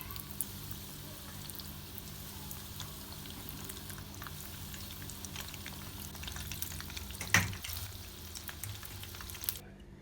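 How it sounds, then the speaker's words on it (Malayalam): Potato popcorn deep-fries in hot oil with a faint, steady bubbling hiss, broken by one sharper clatter partway through. "അപ്പോൾ നമുക്കിതൊന്ന് ഫ്രൈ ചെയ്തെടുക്കാം"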